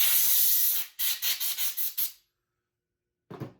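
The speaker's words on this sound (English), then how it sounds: "So I've got some compressed air here. We'll just kind of clean these parts off. Blow out any gunk that's still in there." Compressed air blasts through clogged Harbor Freight foam cannon parts: one long hiss, then five quick sharp bursts, a pause, and a final short puff, all loud and close.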